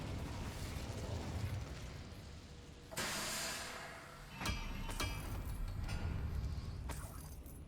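The Incendio fire spell erupts in Hogwarts Legacy on PS5: a sudden rushing burst flares up, eases, then a second sharper crackling blast follows, both fairly soft over a low, steady game ambience.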